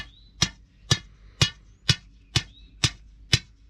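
Steel pins being pounded by hammer into a concrete block footer, seven sharp ringing metallic strikes in an even rhythm about half a second apart, close and alone.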